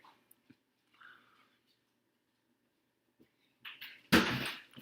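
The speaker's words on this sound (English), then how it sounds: "My dog just came up to me and wants me to take him for a walk." A pet dog eager to be taken for a walk makes a few soft, scattered sounds close by, then a single loud, sharp burst near the end.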